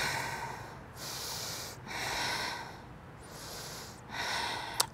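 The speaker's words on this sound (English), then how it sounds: "Breathing." Heavy rhythmic breathing while holding a yoga plank, about four long, steady breaths one after another, close and fairly quiet, with no talking.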